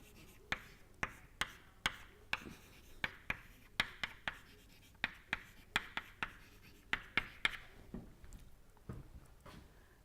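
Chalk or marker taps and strokes on a lecture board come as a quick, regular run of about twenty sharp, faint ticks. They fall under a hushed room with no talk.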